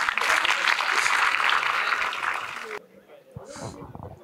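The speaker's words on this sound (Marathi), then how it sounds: "एकदा टाळ्या वाजवा" Audience applause at a Marathi stand-up comedy crowd-work show, a dense burst of clapping that fills the first few seconds before dropping off, after which a voice speaks over a quieter room.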